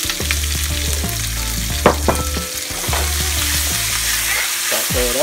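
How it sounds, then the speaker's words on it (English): Onions sautéing in bacon fat in a pan, a steady loud sizzle with repeated scraping stirs of a utensil against the pan and a low hum underneath. "Saute it up."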